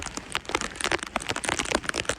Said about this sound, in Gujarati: મેં વરસાદ પણ સારો પડે છે